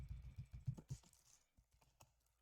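Rapid keystrokes on a computer keyboard, a quick burst of clicks that slows and thins out toward the end, close and fairly quiet.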